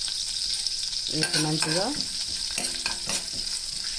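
Urad dal, cumin, mustard seeds and a dried red chilli sizzle steadily in homemade butter while being stirred, with a voice speaking briefly over the frying.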